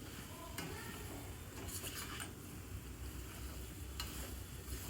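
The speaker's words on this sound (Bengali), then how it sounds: "এমনভাবে কষতে হবে যাতে সমস্ত আলু পটলের মধ্যে মশলাগুলো ঠিকভাবে মিশে যায়" Potatoes and pointed gourd sautéing with spices in a pan over high flame, heard as a soft continuous sizzle with a few faint scrapes and clinks of a utensil stirring.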